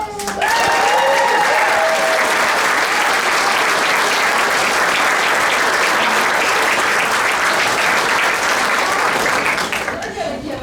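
Sustained, loud applause from an audience for a children's senior chorus performance in Africa, many hands clapping evenly for about ten seconds before tapering off.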